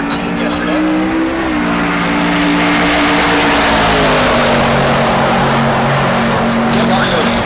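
Drag race cars at Heartland Park Topeka, including a Mopar in the left lane, roar loudly and steadily throughout, their engine drone shifting pitch as they launch, with an announcer talking over the noise.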